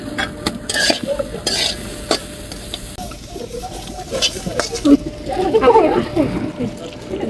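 Grated coconut fries and is stirred in a pan for a winter-morning bhapa pitha, with crackling sizzle, repeated scraping and clinks of a utensil against the pan, and people talking intermittently.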